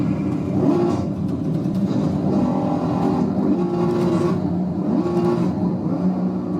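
Car engine in a racing simulator game, a continuous loud drone with repeated rises and falls in pitch as the throttle is eased on and off, steady and close with no talk.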